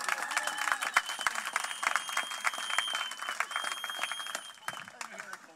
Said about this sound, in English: Ladies and gentlemen, please give Miss Lucille a big round of applause.